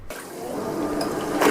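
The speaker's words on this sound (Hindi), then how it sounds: "जो पानी का जो ड्रम में मूवमेंट है उसकी आवाज़" Water sloshing inside the drum of an automatic top-load washing machine, a close, continuous churning wash that swells louder toward the end.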